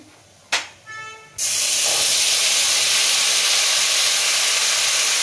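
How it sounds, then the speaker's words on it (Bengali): A gas stove burner is lit for cooking doi katla (curd-style catla fish curry): a sharp ignition click and a short burst of hiss, then a loud, steady broadband rushing roar of flame that continues to the end. "গ্যাসের ফ্লেমটা জ্বালিয়ে দিলাম।"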